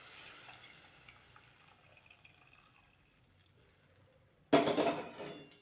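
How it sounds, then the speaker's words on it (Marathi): Hot water is poured into a pan of shev bhaji curry seasoned with garlic and red chilli. A sudden loud splash and gush breaks a quiet kitchen background and continues strongly to the end. "याच्यात मी आता पाणी टाकून घेते जेवढं पाहिजे तेवढं."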